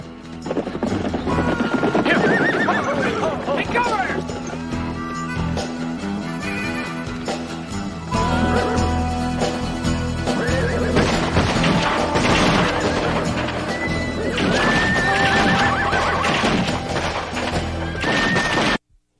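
Horses whinny repeatedly over a loud, busy scene with hoofbeats and crashing commotion, continuous and close throughout.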